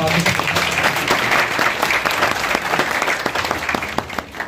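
An audience applauds at the closing ceremony of a monthly semi-online children's panchakarma course, with loud, dense, steady clapping that thins out toward the end.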